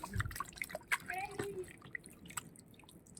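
Water splashes and drips as mutton is washed in a kitchen, scattered light droplets and small splashes heard close, with a voice talking over them.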